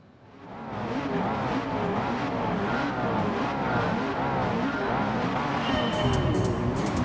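Race cars pull away from the starting grid at the start of the second race in the Challenge Series, a loud steady roar of several engines revving and accelerating together, swelling in the first second and then holding as a dense continuous drone with a brief tire squeal.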